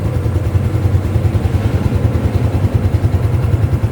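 Honda XRM 125 Fi motorcycle engine idling after an electric start, a steady close-up putter of rapid, even low thumps that continues without revving for the whole stretch.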